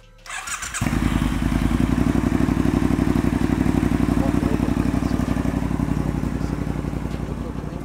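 A 2017 Triumph Bonneville Bobber with a straight-through exhaust fires up and settles into a loud, close, throbbing idle, its pulses thumping rhythmically for several seconds after a short start.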